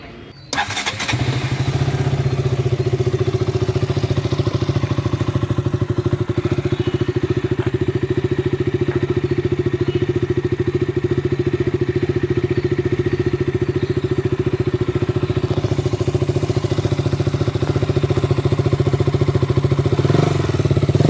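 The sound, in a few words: KTM RC 200 motorcycle engine starting and idling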